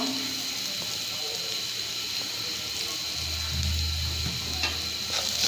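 Soybeans with herbs and salt stirred while frying in a pan, a steady hiss of sizzling oil with faint scraping from the stirring, close and continuous.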